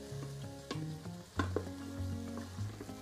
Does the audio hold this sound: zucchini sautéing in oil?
yes